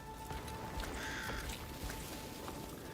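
Crow cawing in the video game Crimson Desert, a single drawn-out harsh call in the middle of a steady ambient game soundscape, faint and somewhat distant, with no speech.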